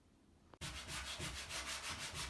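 Rhythmic scraping of sandpaper on a surface starts abruptly and continues in steady back-and-forth strokes, close and loud.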